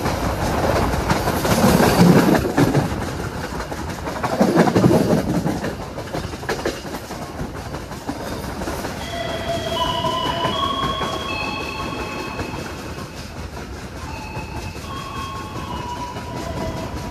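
KA Bengawan passenger train running on rails as it arrives at Cirebon Prujakan station, with loud rumbling and rattling early on, then a steadier rolling roar with high squealing wheel tones through the second half.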